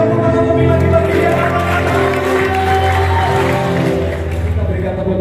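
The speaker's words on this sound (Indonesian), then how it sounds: "Yang percaya berikan tepuk tangan lebih lagi bagi dia." A church congregation claps and cheers in a sustained wave of applause under loud music and a preacher's voice talking over it.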